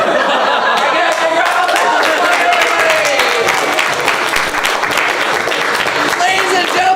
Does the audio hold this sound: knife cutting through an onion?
no